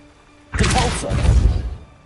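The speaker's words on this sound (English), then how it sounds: "Repulso." In the video game Hogwarts Legacy, a Repulso spell hits with a sudden, loud whooshing crash after a half-second of quiet. The burst roars on for over a second before fading.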